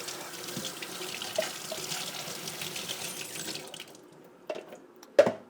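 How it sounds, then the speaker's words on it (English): Running tap water rinses an AeroPress coffee maker in a sink, a steady splashing stream for several seconds that stops, followed by a couple of clunks as the plastic parts are handled. "And then just give it a quick rinse."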